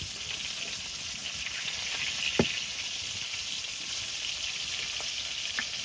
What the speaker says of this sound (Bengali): আমি মাছগুলো ভেজে নিই